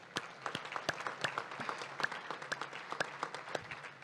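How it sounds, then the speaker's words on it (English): A luncheon audience at a Chamber of Commerce gathering applauds sponsors with sparse, distinct claps from a modest crowd, heard somewhat distant in the room. "let's give them a round of applause"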